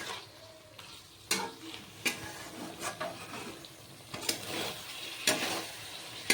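Okra and spices frying and being stirred in a pan, a soft continuous sizzle broken by repeated sharp scrapes and clicks of the spoon against the pan, close by with no voice.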